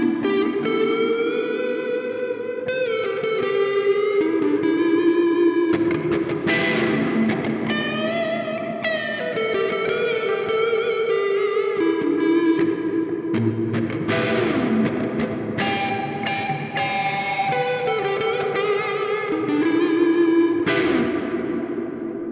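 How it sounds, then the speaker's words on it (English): Electric guitar through a Coffee Shop Pedals Cortado reverb pedal, playing a continuous run of chords and picked melodic phrases with lush, spacey reverb tails, loud and steady for the whole stretch. "So that is the Coffee Shop Pedals Cortado Reverb."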